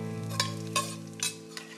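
A steady hum runs under soft sizzling as garlic fries in hot oil before livers and kidneys go in, with a few spoon scrapes and stirring clinks at regular intervals.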